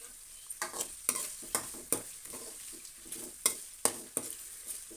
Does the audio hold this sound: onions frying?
yes